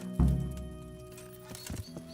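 Horse hooves clopping in the medieval video game Kingdom Come: Deliverance, a loud thud and a few nearby steps over a steady tonal game background, with a couple of lighter hoof knocks near the end.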